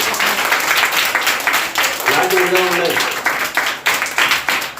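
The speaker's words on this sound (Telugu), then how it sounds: "విలువైంది అన్న వారు గట్టిగా చప్పట్లు కొట్టారు" Children at a Christmas candle lighting service clap loudly, a dense burst of applause with a voice speaking over it partway through.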